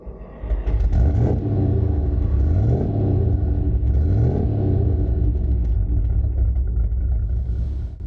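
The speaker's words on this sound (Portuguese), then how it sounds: "Esse V8 é difícil de descrever." A 1967 Maserati Quattroporte Mk1 V8 engine starts up and settles into a deep, loud, steady rumble with a few revs rising and falling, close and alone without talk.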